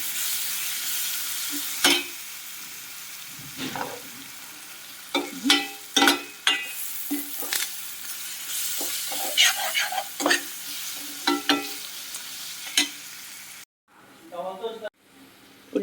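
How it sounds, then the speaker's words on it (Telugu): Onions frying and stirred in a pan with garlic, a close sizzle with frequent scraping spatula strokes, a person talking over it, and the sound dropping out near the end. "ఉల్లిపాయలు అయితే బాగా ఫ్రై అయిపోయినాయండి."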